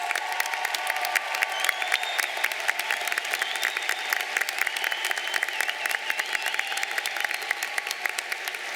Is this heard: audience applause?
yes